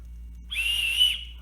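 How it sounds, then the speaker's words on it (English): An aluminum whistle from a survival kit gives one short, shrill blast of about half a second, close and fairly soft, with breathy hiss around the tone. "The 9th item is going to be another whistle"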